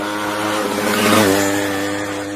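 A motorcycle circles inside a well of death show, its engine a loud, steady buzzing drone that swells slightly in the middle as it sweeps past, then eases off, with no talking.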